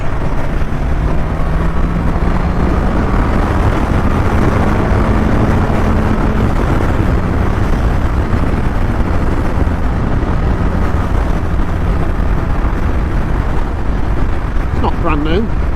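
Motorcycle engine heard while riding a new loaner bike, a loud steady drone mixed with rushing wind noise throughout, with a brief rising tone near the end.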